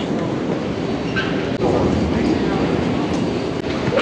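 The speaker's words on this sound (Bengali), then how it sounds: "34th Street, Hudson Yards bound 7th train." A New York City 7 subway train, bound for 34th Street–Hudson Yards, at the Times Square station gives a loud, steady rumble and rattle with no break over the few seconds.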